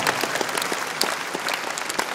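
Sustained applause from a convention audience at a fan expo, a dense, steady wash of many hands clapping throughout with a few sharper claps standing out.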